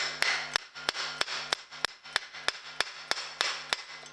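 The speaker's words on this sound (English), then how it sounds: "Grab your hammer, give it nice little love taps." Hammer tapping a crank puller to press the spindle out of a Profile Racing Elite BMX crank arm: about eleven sharp metallic taps at a steady, moderate rhythm, close and fairly light, with no talking.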